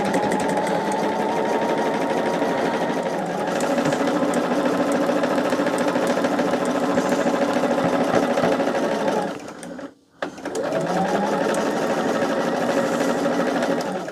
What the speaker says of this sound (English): I've just been sewing it together.